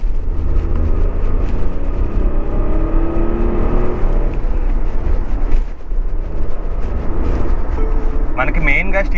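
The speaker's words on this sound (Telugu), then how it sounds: "ఒకసారి మనం పర్ఫార్మెన్స్ టెస్ట్ అయితే చేద్దాం. చూడొచ్చు మీరు వీల్ స్పిన్ అయితే అయ్యింది." A 2024 Tata Nexon facelift launched hard with its wheels spinning, a loud, steady broadband engine and road roar filling the cabin, while a person talks over it throughout.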